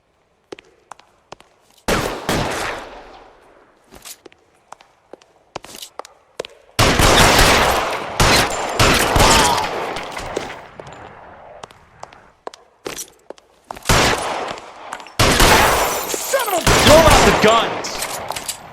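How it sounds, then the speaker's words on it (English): Bursts of gunfire from the LA Noire video game, sharp volleys in clusters with quieter gaps between them, loud and close, building into sustained fusillades. "Guns!"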